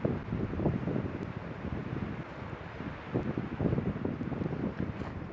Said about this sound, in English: It's super windy today